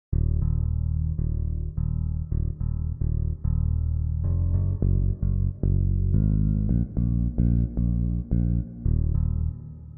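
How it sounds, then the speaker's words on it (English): Guitar bass patch played on a MIDI keyboard and heavily processed, a deep, chunky run of short staccato bass notes in a choppy rhythm with brief gaps, loud and close with no voices. "The guitar bass sounds like this."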